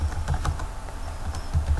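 Close, steady typing on a computer keyboard: a quick run of key clicks in an irregular rhythm, alone and without speech.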